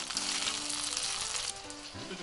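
Chicken thigh crisps skin-side down in a frying pan over low heat, giving a continuous loud, bright sizzle that dips briefly near the end, with no speech.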